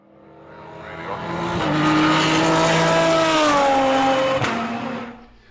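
Mercedes-AMG GT3 race car engine, about 500 horsepower, passing close by: a loud rising roar with gear changes, swelling in and then fading away.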